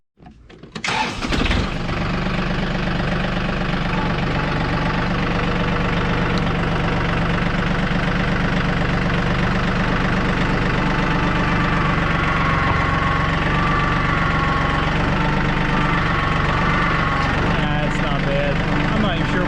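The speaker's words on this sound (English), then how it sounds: "let's jump on the John Deere and shove it over by the wheel" A John Deere tractor engine starts, then runs at a steady loud idle for nearly twenty seconds, a close, even, throbbing rumble with a slight knock.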